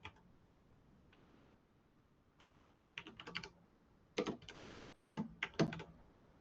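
Fingers tap on a computer keyboard in uneven bursts of quick, light clicks separated by pauses, close and fairly quiet against a faint room hiss.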